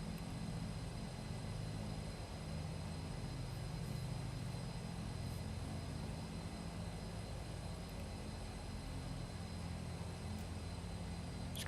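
A steady, unbroken drone of an airliner's engines and systems hums during pushback in Microsoft Flight Simulator 2020, low and constant, with a faint high whine and a few small clicks.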